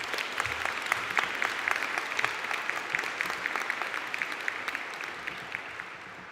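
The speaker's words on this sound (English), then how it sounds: "warm round of applause" A warm round of applause from the audience at a university science and health graduation conferring ceremony, steady scattered clapping heard from a distance, gradually easing toward the end, with no talking.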